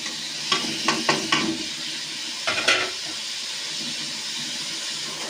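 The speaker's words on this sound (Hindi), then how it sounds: "ये सारे मसाले डाल के हम इसको भूनेंगे।" Masala spices and softened tomatoes fry in a pot, a soft steady sizzle broken by a few quick stirring scrapes near the start and again midway.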